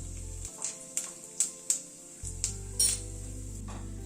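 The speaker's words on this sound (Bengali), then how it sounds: "পনিরটাকে ভেজে তুলে নেওয়ার পরে ওই তেলে 1/2 টিস্পুন সাদা জিরে ফোড়ন দিচ্ছি" Half a teaspoon of cumin seeds dropped into hot oil left from frying paneer, a steady hiss with a handful of sharp pops and crackles spaced irregularly, close by, with no voices.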